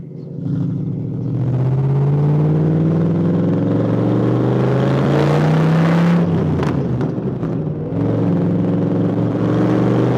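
A lightweight Cobra recreation sports car accelerates hard in first gear, its loud, close engine rising steadily in pitch with a brief shift-like dip near the end, then climbing again; no talking.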